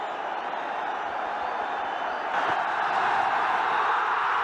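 A cricket crowd roars at a Pakistan versus India one-day international in 2006 as Tendulkar is dismissed, a broad, distant wash of cheering that swells louder midway and holds.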